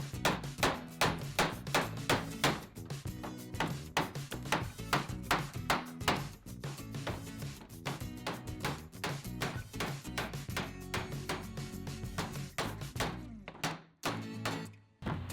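Hammer blows drive nails into salvaged tongue-and-groove beadboard for a wooden trough, a steady run of loud, close, sharp whacks repeating quickly for the whole stretch with a brief pause near the end.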